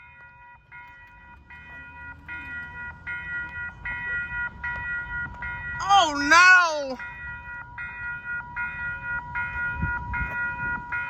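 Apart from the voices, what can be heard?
South Shore train passing crossing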